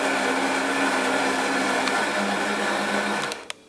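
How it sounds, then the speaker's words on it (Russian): A household coffee machine runs with a steady, loud whirring hum and constant tone that continues for several seconds, then cuts off abruptly near the end with a short click. "Так шумит кофемашина."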